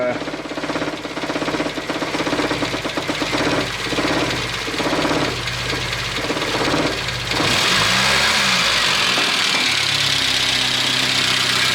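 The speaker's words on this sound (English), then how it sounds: "it's obviously idling very rough. I'm just going to rev it up" A 1989 Nissan Pao engine idles roughly with a fast, uneven knocking chug. It then revs up into a louder, steadier roar near the end, close up and with no talk.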